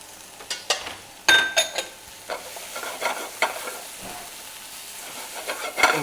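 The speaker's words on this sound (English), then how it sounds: "we're going to add the mushrooms" Mushrooms sautéing in a hot pan with browning onions for a beef and mushroom madras: steady close sizzle with repeated sharp stirring scrapes and spoon knocks, no talk.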